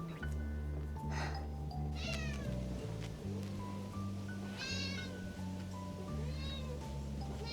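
Pet cats meow repeatedly outside a small urban garden, wanting to come back indoors; several rising cries stand out clearly over a steady low hum and background noise.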